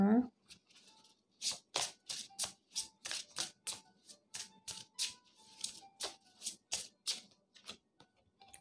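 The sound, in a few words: shuffling Love Story tarot cards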